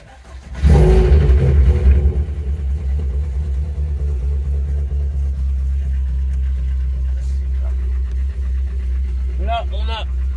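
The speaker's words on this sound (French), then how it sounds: "Mise en route du véhicule." A car engine starts after a treatment product is added for a hydraulic lifter problem, cranking loudly into a steady close idle that runs on evenly, with a brief whine near the end.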